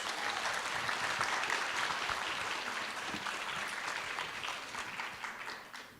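An audience at a high school honor roll recognition applauds for 4.0 students, a steady wash of clapping from a crowd that fades slightly toward the end.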